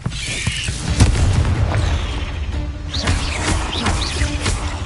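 A Confringo fire spell explodes in Hogwarts Legacy gameplay, with a loud boom near the start, then crackling bursts and whooshing magical effects over a busy, rumbling game soundscape.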